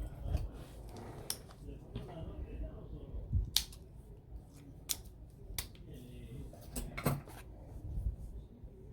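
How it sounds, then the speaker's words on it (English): Scissors snip through fabric while cutting a piece for a stuffed bunny's arm, a few sharp, close clicks and cuts spaced irregularly over soft handling noise. "I think we're going to cut it at about right there."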